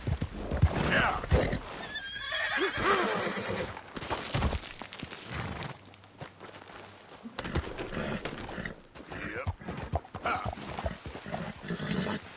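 Horse in Red Dead Redemption 2 whinnying loudly several times with clip-clopping hooves, mixed with game ambience and faint voices.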